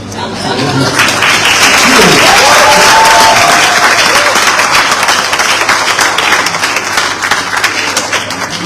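Loud, sustained applause from a large audience at a university graduates' recognition ceremony, dense continuous clapping filling the room with faint voices mixed in.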